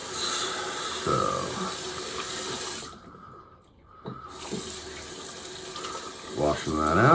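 Tap water runs into a sink while shaving lather from a head shave is rinsed away, a steady close rush of water with a short lull midway and some splashing near the end.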